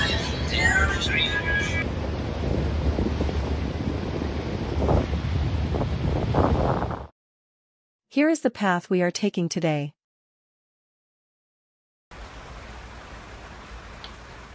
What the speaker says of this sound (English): as you can probably hear and see, it's raining and pretty windy today